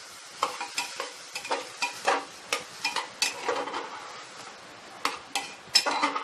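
Khichdi being stirred in a pan, a steady rhythm of sharp spoon scrapes and taps against the metal over a soft sizzle, close by with no talk.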